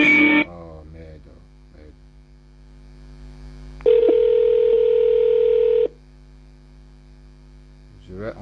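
Telephone dialing tones play for a call, beginning with short beeps and then a steady tone of about two seconds over a constant background hum.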